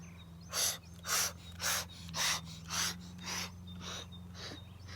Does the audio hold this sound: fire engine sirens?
no